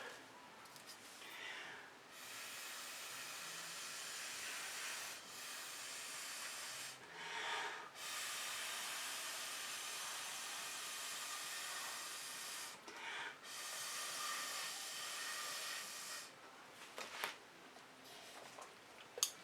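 Air blower pushing fluid acrylic paint across a background, a steady close hiss that drops out briefly a few times and then resumes, with no voices.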